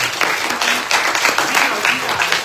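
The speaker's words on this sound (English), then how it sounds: "Can we give them a big round of applause?" Audience at a Commonwealth Covenant Jubilee event applauds, a dense steady clapping from a crowd throughout, close and moderately loud.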